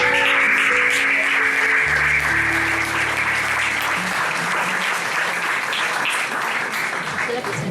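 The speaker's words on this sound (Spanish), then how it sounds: "Y ahora un fuerte aplauso al Señor" A church congregation gives loud, continuous applause after a prayer, with a sustained musical tone underneath, and the clapping stays full and even throughout.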